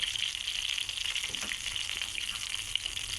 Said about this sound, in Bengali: দিয়ে দিলাম পরিমাণ মতো তেল।